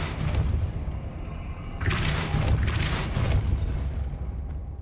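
Repulso spell cast in the video game Hogwarts Legacy: a loud, deep whooshing boom bursts out about two seconds in, over a rumbling game background, with no talk.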